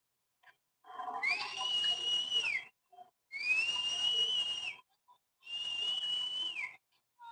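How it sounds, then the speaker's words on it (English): Community members outdoors blow three long, shrill whistle blasts in a row to alert neighbors, each separated by a short silence, loud and unaccompanied. "You can hear the whistles. That's the local community alerting everybody the ICE is in the area."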